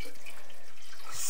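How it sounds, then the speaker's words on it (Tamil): Water poured from a glass into a chicken roast pan, a short near splash and trickle of liquid with no talk. "இப்போ நான் ஒரு கிளாஸ் தண்ணி இதில் ஊற்றுறேன்."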